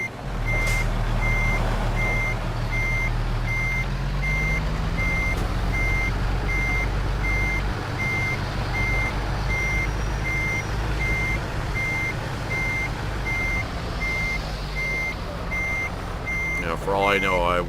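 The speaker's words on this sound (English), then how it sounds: "No, I think I'll just finish parking the truck" A truck in American Truck Simulator beeps steadily in a regular, evenly spaced rhythm while reversing into a parking spot, over a low idling diesel drone, and a voice speaks briefly at the end.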